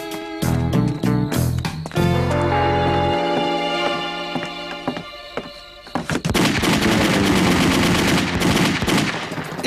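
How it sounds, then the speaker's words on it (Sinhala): Gunfire in a Sri Lankan action film scene: loud rapid bursts of shots with sharp repeated impacts, mixed with a dramatic music score, then a dense burst of firing near the end. "ඒ වෙඩි සද්දය උසාවිය පැත්තේ නේද?"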